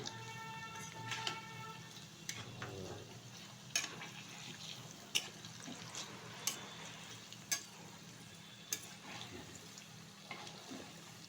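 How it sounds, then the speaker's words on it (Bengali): Banana fritters fry in a wok with a faint, steady sizzle of hot oil, broken by occasional sharp clinks and scrapes of a utensil stirring and turning them; no one speaks. "বড়াগুলো কিন্তু উল্টে পাল্টে খুব সুন্দরভাবে ভেজে নিয়েছি"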